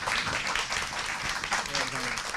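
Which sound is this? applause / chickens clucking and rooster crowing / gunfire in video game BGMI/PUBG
applause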